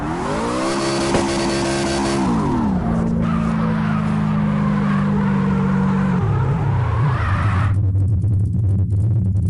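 A car in the CarX racing game drives loudly, its engine droning and shifting pitch as it revs and changes gear, with tire squeal and skidding mixed in throughout.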